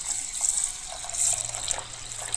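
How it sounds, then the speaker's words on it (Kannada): Split moong dal being washed in water, with a continuous close splashing and trickling rush that rises and falls, and no voices. "ಇದನ್ನು ಹೆಸರುಬೇಳೆ ಹಾಕಿ ಇದನ್ನು ಸ್ವಚ್ಛವಾಗಿ ತೊಳ್ಕೊಳ್ಬೇಕು."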